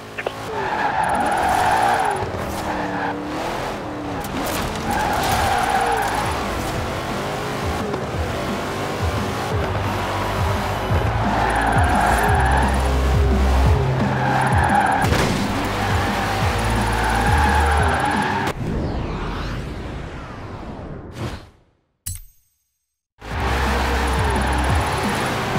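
A car drifting in Forza Horizon 4, its engine droning hard under long, loud, repeated tire squeals that rise and fall, then cut out briefly into near silence before resuming.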